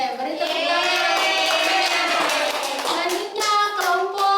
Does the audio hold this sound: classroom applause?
yes